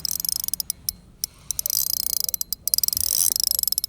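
A Talon shallow-water anchor deploying from a fishing boat, a close, rapid mechanical ratcheting clatter in fast regular bursts with brief pauses, speeding up and growing louder toward the end.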